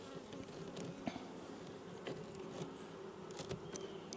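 Honey bees hum continuously around a small swarm box colony, a close, steady buzzing with individual bees flying past now and then, no voices.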